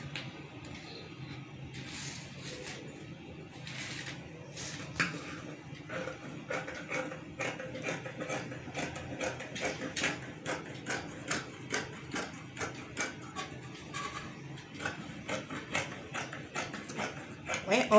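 Scissors cut out fabric for a shirt pattern, a quiet, close series of regular snipping clicks that speeds into a steady rhythm and keeps going, with faint talk at the start.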